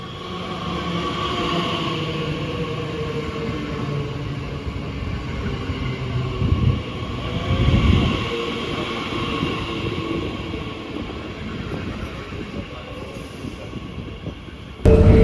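A train rolls along steadily with a continuous low rumble and rattling wheels, swelling briefly in the middle before a sudden louder burst at the end.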